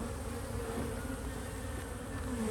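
Honeybees buzzing steadily in an apiary bee yard, a dense, continuous drone of many insects close by with no talk over it.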